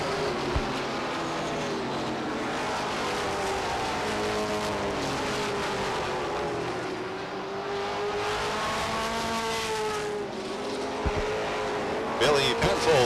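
Race cars roaring around Beech Ridge Motor Speedway during 1993 weekly racing, engines droning and rising in pitch as they pass, continuous and loud under announcer commentary.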